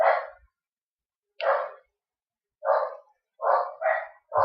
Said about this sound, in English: Apparently fluffing auras calls the dogs to get to barking.